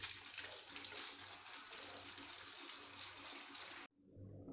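Running water from a tap rinsing an old car battery, a steady broadband splash that continues loudly before cutting off abruptly near the end, followed by quieter dripping.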